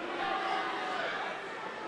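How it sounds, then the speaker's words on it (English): A dense, roaring crowd at a martial arts fight cheers steadily from a distance, a continuous wash of many voices without a break. "Everybody, you can hear the crowd."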